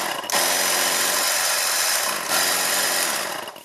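A car-wash pressure washer motor runs loud and close after being reassembled, a harsh mechanical whine that starts abruptly, dips briefly midway, then surges back and keeps going.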